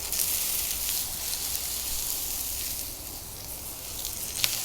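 Onions sizzle and fry in butter and avocado oil in a pan, a steady close hiss and crackle with no talking.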